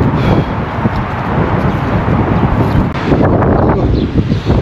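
Strong cold wind outdoors in Russia buffets the microphone, making loud, continuous rumbling gusts that rise and fall slightly, with no voices heard.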